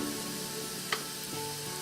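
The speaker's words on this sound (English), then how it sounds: "we're gonna sweat the onion and the garlic. We're not gonna saute them, we're gonna sweat them." Chopped onion and garlic sweat gently in a pan over low heat, giving a steady soft sizzle with faint crackles and one small clink, close and continuous, no talking.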